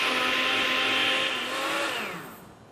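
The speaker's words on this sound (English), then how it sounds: "So just pop it in the blender and we want to blend it quite a lot" A blender whirs steadily at high speed, pureeing leafy greens in water; the motor's harmonic whine holds strong for about two seconds, then winds down and fades as it is switched off.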